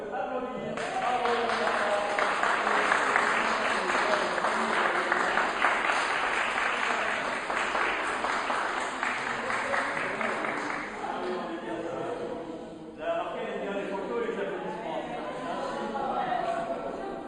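Congregation at a Catholic baptism applauding the newly baptised, a long sustained round of clapping with some crowd chatter, briefly dipping near the end before resuming.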